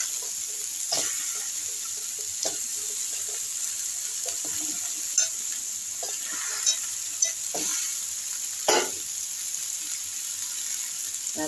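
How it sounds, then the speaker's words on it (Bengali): Potatoes and onion stalks fry in a pan with a bright, continuous sizzle, broken by several sharp scraping clatters from stirring, close and fairly quiet. "প্রথমে আলুগুলো দিলাম, তারপরে আমি এই পেঁয়াজ কলিগুলো দিয়ে দিচ্ছি।"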